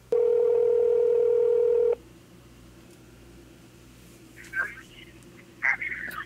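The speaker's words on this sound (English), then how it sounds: "I'll just randomly drop him a phone call and test out recording a phone conversation" A telephone dial tone hums steadily for about two seconds, then cuts to a quiet line hiss broken by short bursts of ringing or connection sounds as a phone call is placed.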